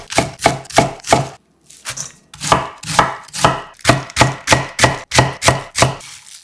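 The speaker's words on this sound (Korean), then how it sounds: "양배추 반통 900g을 준비하고 반을 갈라 두께는 2cm, 길이는 5cm 정도로 해서 잘라주세요." A knife chops half a cabbage into pieces on a cutting board, sharp rhythmic thuds in quick runs with a brief pause after the first few strokes, loud and close.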